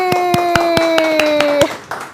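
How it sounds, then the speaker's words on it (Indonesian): Clapping for a virtual class session guest, a short burst of about eight evenly spaced hand claps over a sustained electronic tone that fades out at the end. "Langsung kita berikan tepuk tangan secara meriah yang secara virtual"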